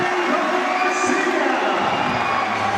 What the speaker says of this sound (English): Crowd going crazy.